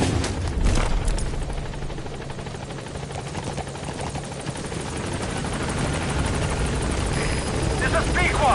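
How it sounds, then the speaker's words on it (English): A support helicopter in Metal Gear Solid V comes in toward the landing zone, its steady rotor chop and engine roar loud and continuous throughout, with a few sharp bangs near the start. "Support helicopter has arrived."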